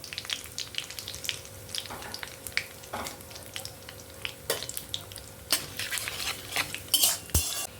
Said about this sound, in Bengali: এই তেলের মধ্যে দুটো শুকনো লঙ্কা আর কালো জিরা ফোড়ন দিলাম